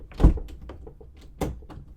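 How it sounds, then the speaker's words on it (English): A door is pushed open indoors with a heavy thunk, followed by soft creaks and scrapes and a second solid bump, close by with no talk over it. "This is how much I can open the door for you."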